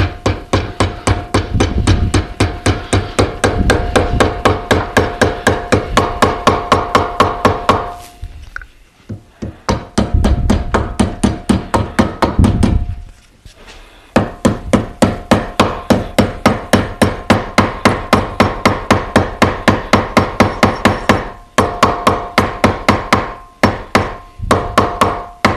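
Steady, rapid hammer blows drive over the feet of a hand pump frame clamped upright in a metal vise, loud sharp strikes in dense rhythmic bursts broken by a few short pauses.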